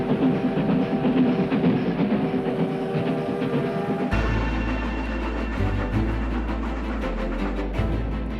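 Train journey sound effect of a moving train, with steady low rumble and rhythmic rail clatter running throughout, loud and close, without any talk.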